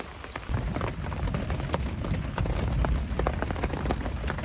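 Heavy thunderstorm rain pours down in a constant hiss, with dense, close spatters of drops striking nearby surfaces and no voices.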